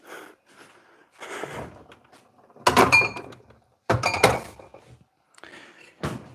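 A fridge door thunks shut after water bottles are put back, with two loud, close bumps and clatters mid-clip, a third knock near the end, and softer rustling between them.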